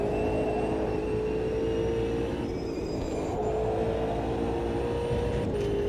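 Race car engine in the Automobilista 2 sim racing game, a sustained loud drone with a steady high engine whine and no voices.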